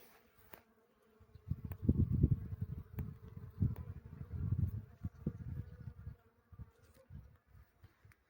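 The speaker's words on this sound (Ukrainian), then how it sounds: "Бджілки працюють." Honeybees buzz around a blossoming Richard apple tree, a steady close drone swelling and fading as insects pass near, with no talk.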